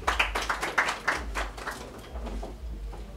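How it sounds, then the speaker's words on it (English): Clapping from a gathering of media people at a press event in Uganda, a few distinct rhythmic claps standing out near the start before softening into a thinner patter with a low hum underneath. "Can you clap for yourselves?"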